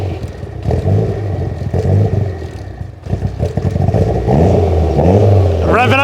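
Subaru WRX STI engine on a budget build revving up, a loud continuous drone with rising pitch sweeps near the end, heard up close with voices talking over it.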